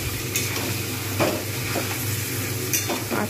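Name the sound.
marinated chicken added to hot spiced oil, sizzling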